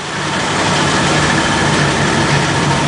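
A 1984 Jeep CJ7 engine idles steadily through a loud aftermarket muffler, giving a constant, close, heavy rumble with no break and no voices.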